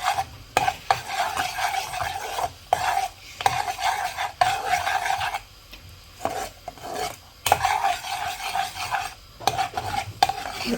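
Caramel cooking in a pan for vattilappam, stirred steadily with a utensil that scrapes and clinks against the metal, with soft sizzling under repeated stirring strokes and short pauses, close and fairly loud.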